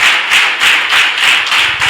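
A church congregation claps steadily and loudly, dense applause with a few rhythmic swells, continuous throughout with no talking.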